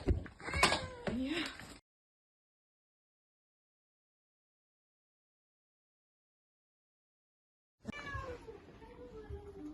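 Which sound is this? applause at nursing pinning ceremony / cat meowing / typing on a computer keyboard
cat meowing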